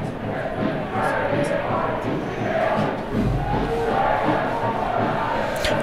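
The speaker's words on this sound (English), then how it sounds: "I hope you can hear the noise the crowd's making at home." Football crowd at a Detroit City FC away match in Chattanooga, opposing fans chanting and cheering in a steady, dense roar that fills the stadium throughout.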